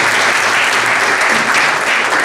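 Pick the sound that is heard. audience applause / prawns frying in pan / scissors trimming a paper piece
audience applause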